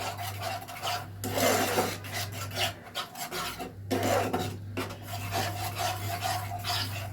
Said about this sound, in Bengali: আঁচটা কমিয়ে এটাকে নাড়তে থাকবে।